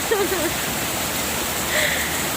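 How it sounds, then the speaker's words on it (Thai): Heavy rain pours at a home as a dense, steady roar. Brief faint speech-like sounds sit under the constant wash. "แต่เสียงฝนมันจะดังกว่าเสียงนาคนะคะ"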